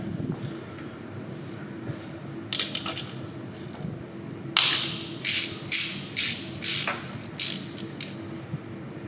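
A socket wrench with an extension ratchets on the captive valve cover fasteners of a BMW N54 engine, a few quick clicks followed by a series of rhythmic short ratcheting bursts, close and crisp over faint background hum.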